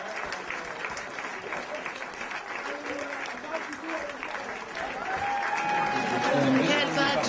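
Dense applause from guests in a theatre hall, a continuous wash of clapping that swells toward the end, with voices mixed in.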